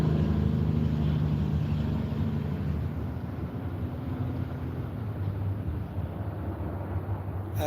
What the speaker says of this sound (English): That little engine's grinding right there.